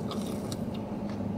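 Someone bites into crunchy Burger King Fiery Nuggets dipped in ranch, giving a few quick close crunches over a soft low background hum.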